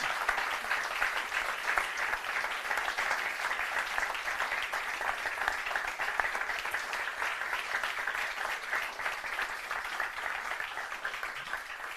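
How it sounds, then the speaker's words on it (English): An audience gives long, continuous applause after an evening talk, a thick steady patter of many hands heard at moderate distance, unbroken for around twelve seconds. "Big round of applause."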